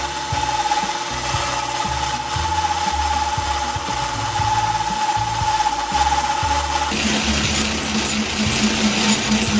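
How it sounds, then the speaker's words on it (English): A lathe turns a shaft for an antique Swan beam drill, a steady mechanical whir with a faint whine and irregular scraping as the cutter feeds along, close and loud with no talk. "Turning on a lathe is a whole lot of standing around watching the thing go left to right."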